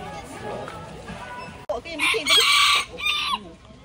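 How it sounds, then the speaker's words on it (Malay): Close-up clucking and a short crow-like call from a serama chicken break out after a moment of low background chatter in Penang, loud and bright against the surrounding noise. "Ni ayam serama lah."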